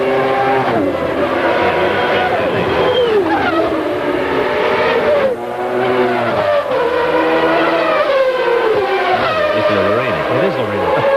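Formula 1 race cars, among them a Ferrari, at the 1992 Australian Grand Prix, high-pitched engines screaming past and rising and falling in pitch through gear changes, with a commentator talking over the noise.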